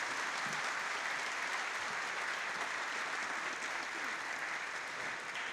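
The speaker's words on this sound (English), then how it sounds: "ladies and gentlemen, I would like you to give Pat, in his absence, a big round of applause" Sustained, even applause fills a large hall during an anniversary concert for a music academy at Cork City Hall, a steady wash of many hands clapping without a break.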